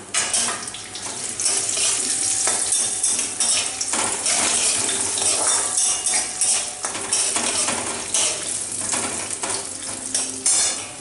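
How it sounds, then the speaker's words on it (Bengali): Cashews, raisins and nuts fry in a pan, giving a loud, continuous, crackling sizzle close by, broken by occasional scrapes and clinks of a utensil against the metal, with no talk. "কাজু, কিশমিশ, বাদাম ভাজা ভাজা হয়ে গেছে।"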